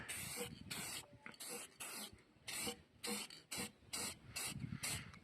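Gloss black spray paint applied in short, repeated bursts to a bicycle frame built from scrap exhaust pipe, outdoors in a breeze. About a dozen close hissing sprays with brief pauses between them.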